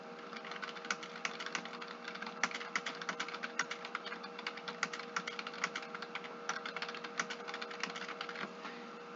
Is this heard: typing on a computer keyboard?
yes